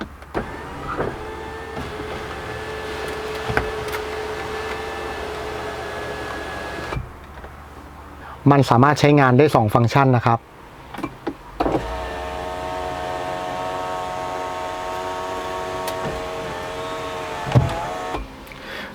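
A first-generation Toyota Harrier's sunroof motor hums steadily for several seconds, a brief louder whirring burst interrupts it, then the motor drones on as the sunroof opens and tilts. Someone speaks briefly.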